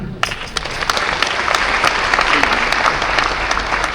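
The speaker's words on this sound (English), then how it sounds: "Let's clap for the conveyor." A large audience at a Kennedy Agyapong address bursts into loud, continuous applause that holds at a steady level, with faint crowd murmur underneath.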